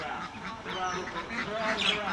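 Ducks on an enclosed duck farm quack and call steadily at close range while being fed, mixed with a person speaking over the flock.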